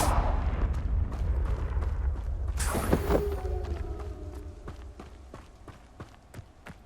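A Confringo fire spell blasts out in Hogwarts Legacy, a loud burst with a bright crackling flare followed by a fading whoosh, set among booming game ambience and scattered sharp impacts.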